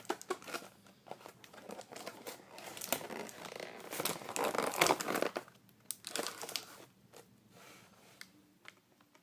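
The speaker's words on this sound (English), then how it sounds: "I got the Pac-Man plug-and-play out of the box." Plastic and cardboard packaging from a boxed Pac-Man plug-and-play game crinkles and tears during unboxing, with close rustling handling sounds that swell to a busy stretch in the middle and trail off into scattered crackles.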